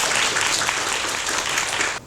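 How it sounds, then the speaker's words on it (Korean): A policy forum audience on power wheelchair support for people with severe disabilities bursts into sustained, dense applause lasting about two seconds before it drops off sharply at the end. "박수 한번 부탁드리겠습니다."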